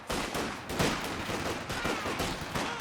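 Machine gun fire in Company of Heroes 2 during a 2v2 match, an MG team laying down suppressing bursts: rapid rattling volleys with scattered impacts, fairly dense and continuous at moderate level.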